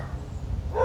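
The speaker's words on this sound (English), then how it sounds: "And I apologize about the dogs." Several dogs bark and yip close by in a home, a loud excited burst rising toward the end over a low background rumble.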